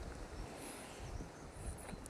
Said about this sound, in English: it's a bit windy right now